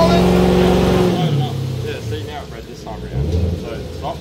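A car engine revs loudly on a Mainline 6000 hub dyno, then drops away to a lower roar during the pull, with people talking over it.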